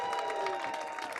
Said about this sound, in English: a big round of applause for all of our speakers today.